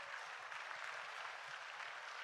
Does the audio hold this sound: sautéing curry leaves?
no